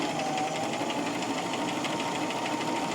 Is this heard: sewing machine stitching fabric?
yes